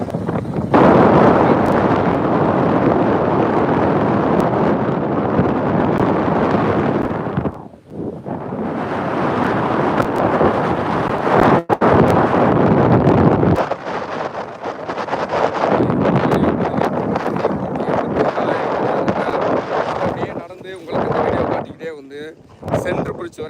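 Strong wind near the new Pamban bridge buffets the microphone with loud, continuous roaring gusts that briefly drop away before surging back.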